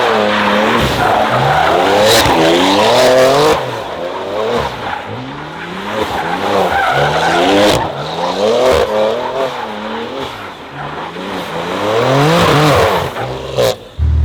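BMW M4 (F80) spinning donuts, tires squealing in long wavering screeches over a loud revving engine, sustained and close for the whole stretch with brief dips between passes.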